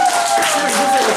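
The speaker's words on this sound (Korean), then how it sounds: "박수 한번 다시" Audience applause at a band's concert in Suncheon during a birthday celebration for the vocalist, a dense, steady wash of clapping and crowd noise filling the short moment, with voices mixed in.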